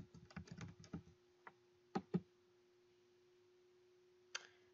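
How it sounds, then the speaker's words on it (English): Typing on a computer keyboard: a quick flurry of soft, close keystrokes, then a few sparse clicks with long gaps, over a faint steady hum. "I'm going to type in Bill Gates"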